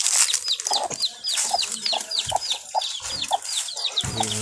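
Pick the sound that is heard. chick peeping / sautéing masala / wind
chick peeping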